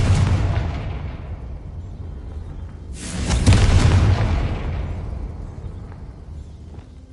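The Confringo fire spell in the video game Hogwarts Legacy goes off as a loud, deep booming blast that swells out of a rumbling backdrop and then slowly rolls away.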